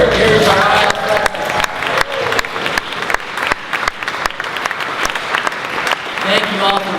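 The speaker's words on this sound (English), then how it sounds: "So if you're a current iHouse resident, stand up and give iHouse a cheer." Audience at a United Nations Day celebration and awards dinner bursts into cheers and applause, loud at first with whoops and shouts, then settling into scattered sharp claps and voices.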